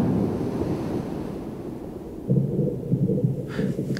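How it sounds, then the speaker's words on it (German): Ocean waves with dark water in an animated scene, a deep continuous rushing surge of surf with wind-like roar, swelling louder midway and then breaking in rolling pulses, with no voices. "Boah, voll die Wellen am Start. So dunkel, so richtig schwarzes Wasser."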